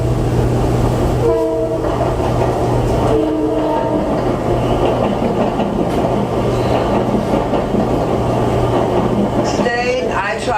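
Train rumbling past at close range, loud and continuous, its horn sounding in two short blasts early on and another toward the end, near Main and Front Street.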